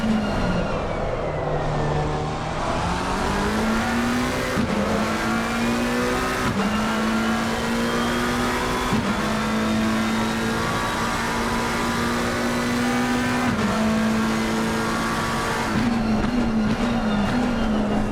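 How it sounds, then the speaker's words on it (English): A McLaren race car engine in Assetto Corsa Competizione at Laguna Seca drones at a steady high pitch, its tone shifting slightly as gears change, loud and continuous throughout. "So Max, you talk about going to sleep to the engine sound of the McLaren."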